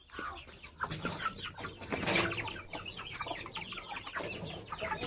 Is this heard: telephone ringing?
no